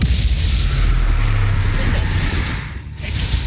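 Expulso spell explosion in the video game Hogwarts Legacy, a loud continuous booming roar with heavy low rumble that dips briefly before swelling again.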